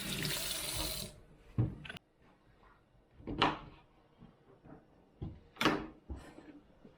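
A pumpkin is rinsed under a running kitchen tap in a short splashing burst, followed by scattered knocks and clunks in a quiet room.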